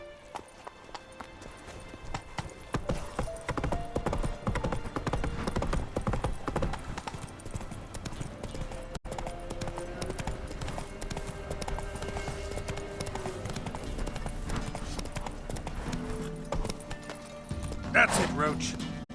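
Roach, the horse in The Witcher 3, gallops in a rapid, continuous clip-clop, loud and close, under a bed of game music, with a voice speaking briefly near the end and a faint whinny-like call.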